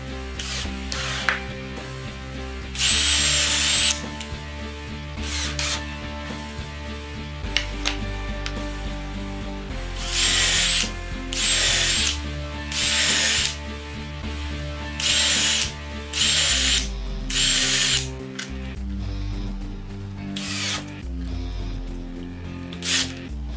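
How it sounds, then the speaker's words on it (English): A power drill pre-drills and drives short drywall screws into cedar fence picket boards in repeated loud bursts of whirring, separated by pauses and interrupted by ratcheting clicks, with no speech. "I then glued, pre-drilled, and countersunk all the boards."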